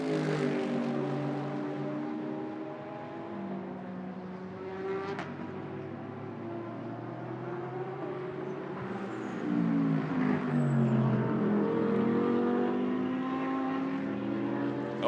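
A Mercedes AMG race car in green-trimmed grey livery at the Sepang 12 Hours endurance race, its engine roaring steadily with shifting pitch as it passes, loud and continuous throughout.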